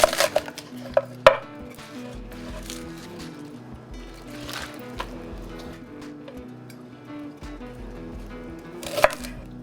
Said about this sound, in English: now we're going to do our spring onions. I'm going to cut most of the tops off.